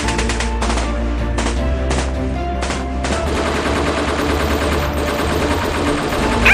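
Dramatized gunfire exchange from both sides: loud, rapid bursts of automatic shots, first in separate volleys, then a continuous barrage.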